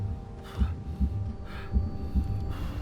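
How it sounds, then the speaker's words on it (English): Slow, heavy heartbeat thumps from a video game cutscene, several low pulses repeating at a steady rhythm beneath a soft ambient hum, with no talking. "Get that heart beating again."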